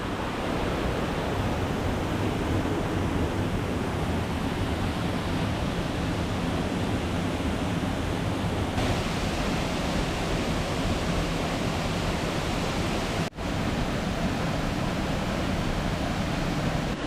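Mother Falls, a waterfall, pours with a loud, constant broadband roar of rushing water that goes on steadily throughout, with no voices.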